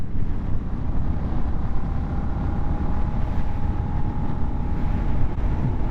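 A 2025 Harley-Davidson Nightster motorcycle accelerating in fourth gear, its steady low engine drone with a faintly rising tone heard from the rider's position under heavy wind rush.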